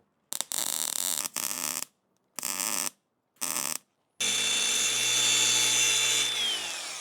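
A power grinder works on the replaceable lens of a 360 camera. Four short, loud grinding bursts with pauses between them are followed by one longer sustained grind that fades toward the end.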